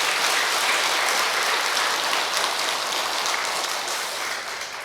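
A congregation at a Korean Buddhist temple prayer ceremony applauds the temple abbot, loud sustained clapping from many hands that stays full and steady before tapering slightly at the end.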